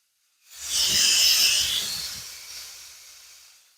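Portable air compressor refilling Jeep tires through an automatic-shutoff inflator, four tires at once: a single broad rush of hissing air swells up, holds for a second or two, then tapers away, close and moderately loud.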